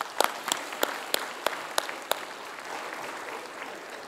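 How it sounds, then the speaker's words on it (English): A conference audience claps for a panel at a World Islamic Economic Forum banking session. Several sharp, distinct claps ring out at first, then thin into a softer, steady patter that slowly fades. "If you can give them a round of applause"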